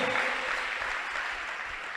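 A church congregation claps during a sermon, a brief burst of steady, dense applause from a crowd in a hall.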